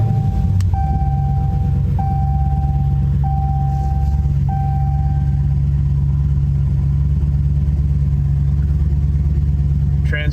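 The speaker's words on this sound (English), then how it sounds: "So I'm going to start the vehicle." A Dodge Scat Pack idles steadily after starting, a loud, deep engine drone that fills the whole stretch, with a repeated beeping chime heard several times early on.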